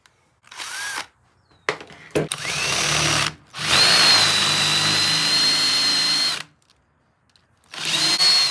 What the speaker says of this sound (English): you may need to guide it as you're drilling through the head